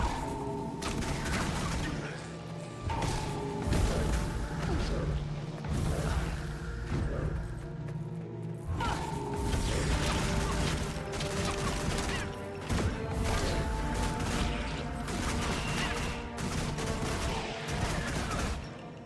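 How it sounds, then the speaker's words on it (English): Battle noise from a Guild Wars 2 fight fills the background: dense, continuous clashing, mechanical clanks and gunfire-like bursts, loud and steady throughout with no speech. "we still have this sound of fighting going on in the background"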